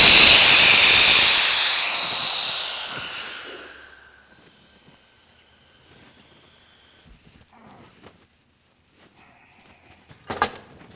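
Air rushes loudly from a tire inflator on a drag racing tire, a strong close hiss that fades away over a few seconds, followed by quiet handling knocks and a sharp click.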